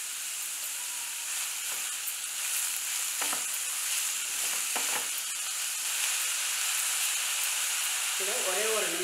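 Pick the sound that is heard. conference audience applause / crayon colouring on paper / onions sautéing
onions sautéing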